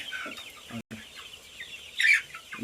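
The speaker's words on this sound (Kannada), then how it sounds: "ನಾಟಿ ಕೋಳಿಗಳೇ ನಿಮ್ಮ ತೋರ್ಸಾಕಿದ್ದೀನಿ" Native country chickens clucking on a small poultry farm, a run of short, close clucks with a brief gap near the start and a louder, sharper burst of calls toward the end.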